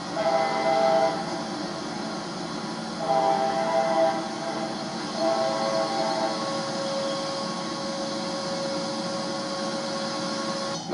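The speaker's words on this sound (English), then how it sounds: "Norfolk Southern High Hood." A Norfolk Southern high-hood locomotive rumbles past at Salisbury, North Carolina, with a steady drone of train noise and several tonal horn blasts, the last held long and steady.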